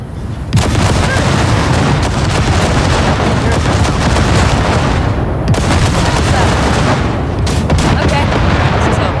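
Heavy guns on a Basilisk hovertank in Cyberpunk 2077 blasting wrecks, loud continuous barrage of rapid booming shots and explosions with brief pauses between bursts.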